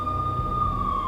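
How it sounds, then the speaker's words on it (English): A sustained police siren in the Max Payne video game, holding a steady wailing tone over a dense low rumble of city or game ambience, loud and continuous throughout. "I could hear the sirens."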